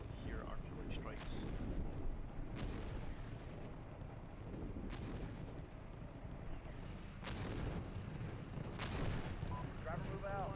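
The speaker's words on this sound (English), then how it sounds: "Artillery, I'm hearing." Artillery strikes in the Steel Beasts tank game land as repeated deep, rumbling booms with sharp cracking onsets every few seconds over continuous low battlefield noise.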